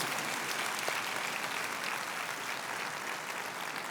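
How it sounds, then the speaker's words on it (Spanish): A crowd applauds steadily, a dense, even wash of clapping that holds at the same level throughout. "Dale un aplauso a Dios por estas verdades"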